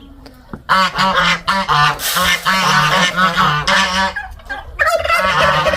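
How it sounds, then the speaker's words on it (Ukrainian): Three drakes, grey, black and whitish, with turkeys close by in a farmyard, gobbling and honking loudly and steadily from close range in overlapping calls for several seconds; no talking. "Ось качури. Бачите, три качури всі різні."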